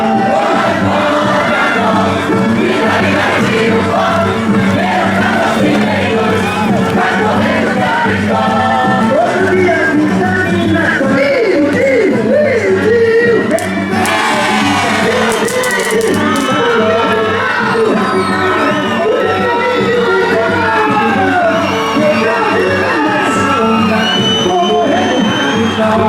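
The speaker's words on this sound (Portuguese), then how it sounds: "Agora sim, mais aplausos" A large crowd at a Pula Fogueira bonfire-jumping event in its third stage roars and cheers continuously, with shouts and whoops rising above the dense, loud din.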